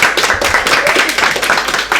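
A team applauds itself after finishing an escape game combat, steady close hand clapping from several people running continuously for two seconds.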